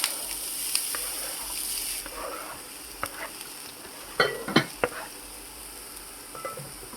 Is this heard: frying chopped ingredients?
yes